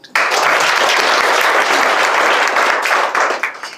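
An audience at the launch of an apprenticeship program bursts into loud, sustained clapping that begins abruptly and starts to thin out near the end.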